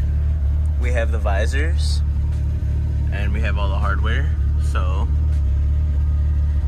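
Steady low engine rumble inside a Mitsubishi Eclipse, running continuously at close range beneath a man's speech.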